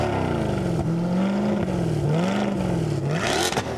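Corvette Z06 convertible fitted with a Lingenfelter supercharger, idling and blipping at a collector car auction; a steady, close, loud engine note that wavers up and down in pitch without a break.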